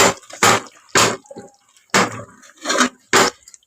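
A pot of boiling toor dal for a North Karnataka palya is stirred in about six separate strokes, each a short, close, wet scraping burst with quiet gaps between them.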